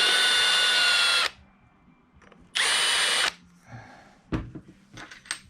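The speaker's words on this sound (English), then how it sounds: "We'll countersink the holes a bit for that nice finished look." Power drill countersinking holes for a heavy-duty bass boat graph mount, two loud whirring bursts of about a second each, followed by light clicks and handling noises; no talking.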